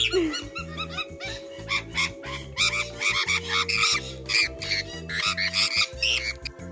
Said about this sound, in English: It's a type of parrot, and they're so cute. They'll just eat out of your hands. They're also really, really noisy.